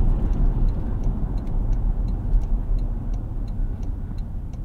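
Steady low road rumble inside the cabin of a 2024 Toyota Tacoma pickup while driving, with a faint regular ticking over it; no talking.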